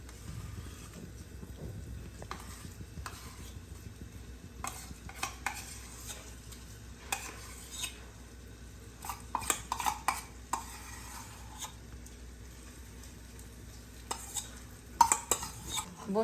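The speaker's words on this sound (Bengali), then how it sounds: "ঘি আমার এই যে জাল হচ্ছে, আমি এইভাবে জাল করতে থাকবো যতক্ষণ পর্যন্ত গলে না যায়।" Milk cream being stirred as it heats into ghee in a wok. Faint, soft scraping and stirring noises continue with a low sizzle beneath them, and a few louder utensil knocks fall toward the end.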